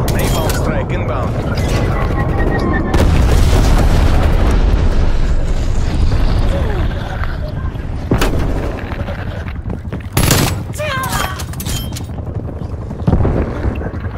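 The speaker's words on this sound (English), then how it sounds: "Sitrep, napalm strike inbound." Heavy booming blasts and crackling gunfire from a napalm strike in Call of Duty: Black Ops Cold War hardcore free-for-all multiplayer, a dense continuous barrage with sharp bursts near the end and game voice callouts over it.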